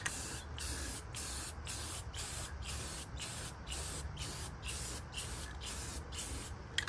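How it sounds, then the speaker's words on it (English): Clear coat is spray-painted over refinished furniture in a series of short, rhythmic hissing bursts from a spray gun, each separated by a quick pause, steady and close. "I also follow up with a clear coat over the top of it just so they have a little more durability to them"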